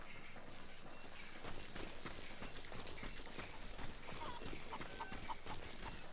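Horse hooves clip-clop in the video game Call of Juarez: Gunslinger, a steady rhythmic patter of steps moving at a walk, fairly quiet amid soft ambient background.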